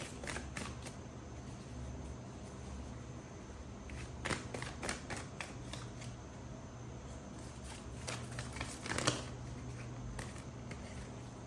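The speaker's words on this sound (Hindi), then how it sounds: "One card at one time. I have to shuffle more." A deck of cards being shuffled by hand, with soft quick riffles and snaps arriving in short irregular bursts, close and quiet, with no talk during them.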